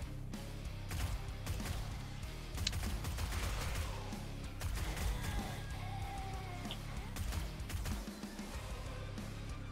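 Fairly faint, sharp shotgun blasts go off in bursts during a horde night in 7 Days To Die, with other combat clatter and crashes around them.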